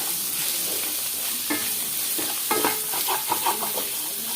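Bitter gourd fries in a pan with coconut, a constant bright sizzle with several stirring scrapes and clinks of the spatula in the second half.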